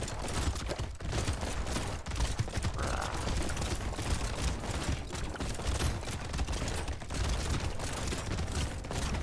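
Dense, continuous rapid gunfire from the video game Brotato, late in a run with a huge number of bullets, crackles without pause as a busy, even barrage at steady loudness.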